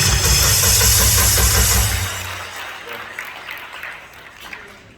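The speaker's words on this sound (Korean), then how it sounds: "박사님 다시 한번 박수로 환영하겠습니다" A gathering of women pastors applauds to welcome a speaker, a loud broad roar of clapping that cuts off after about two seconds and leaves scattered faint claps and room noise.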